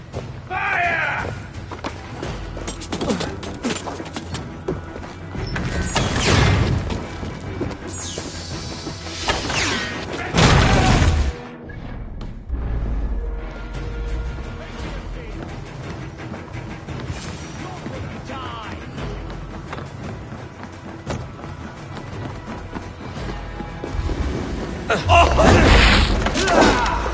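Pirate ship cannon fire in Assassin's Creed IV, heavy booms and crashing impacts over a continuous loud battle din with game music, bursts of blasts recurring throughout and voices calling out in between.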